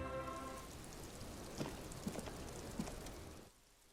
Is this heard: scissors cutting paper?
no